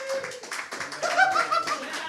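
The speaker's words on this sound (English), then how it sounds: "The same people just kept clapping." A studio audience at a comedy game show claps in a short burst, dense hand claps mixed with some laughter and voices throughout.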